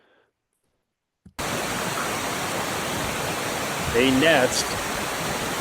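Steady rushing roar of a waterfall pouring over rocks in the Arctic, starting abruptly after a brief silence and continuing loud and close, with someone speaking briefly over it.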